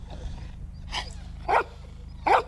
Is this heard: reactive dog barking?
yes